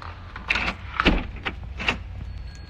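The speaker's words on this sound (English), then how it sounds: "I'm trying to close the door." A door that keeps swinging open being pushed shut, with a few scattered bumps, creaks and a louder clunk around the middle, fairly close, over low background rumble.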